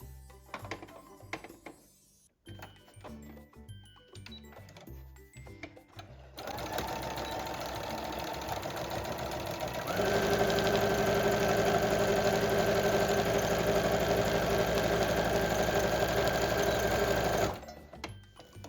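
A domestic sewing machine set to a 2.5 stitch length sews a straight seam, first with a few slow separate thunks, then a steady close rapid whirring hum that speeds up and holds before stopping abruptly.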